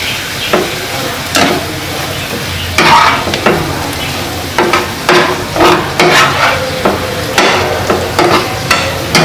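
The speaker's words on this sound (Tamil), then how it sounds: "ஸோ இதை வந்து சிக்கனோட கலந்து விட்டுடலாம்." A spoon scrapes and stirs honey garlic chicken through a thickened, sizzling sauce in a pan, with repeated close, rhythmic scraping strokes over a constant frying hiss.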